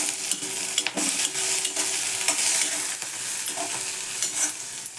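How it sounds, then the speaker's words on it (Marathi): Green chillies roast in a pan for a Maharashtrian thecha, a soft sizzle broken by repeated scraping stirs, close and without talk. "मिरच्या भाजत आल्या बघा."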